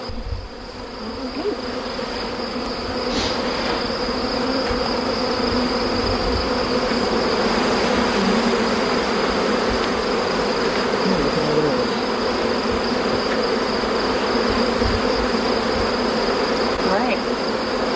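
Honeybees drone in a thick, continuous buzz around a hive, close and loud, with scattered individual bees flying nearer now and then.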